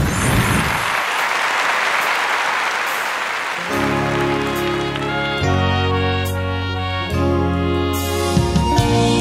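Audience applause welcoming a singer onto a Thai television stage, loud dense clapping for several seconds before a band's sustained instrumental chords take over and carry on to the end.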